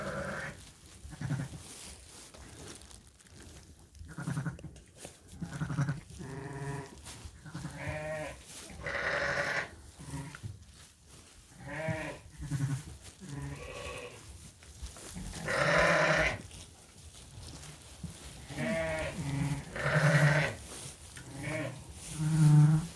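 Sheep and lambs bleating on a farm, with repeated wavering calls of varying pitch coming one after another, some near and loud, others softer, with short quiet gaps between them.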